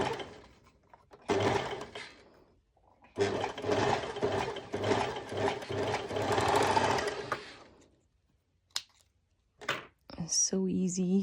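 A home sewing machine hems the edges of swimsuit fabric for an underwire bikini top in bursts of steady running, a short run and then a longer one, close and fairly loud, followed by a few brief clicks and handling noises.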